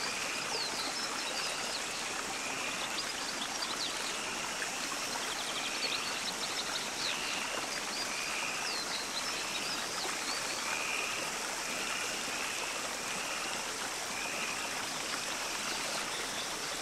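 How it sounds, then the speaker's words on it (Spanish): Water rushes steadily over a rocky, stony stream bed along a steep riverbank, a continuous broadband babble and splash that stays even and unbroken throughout, heard alone without voices. "el agua sortea un cauce pedregoso e inhóspito"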